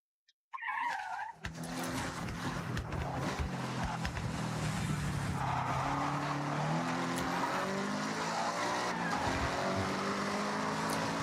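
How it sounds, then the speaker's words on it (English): Several cars in the racing video game Forza Horizon brake hard with loud, sustained tire squeal and skidding over continuous engine roar, filling the whole stretch without a break. "Why do I hear the cars braking like hell today?"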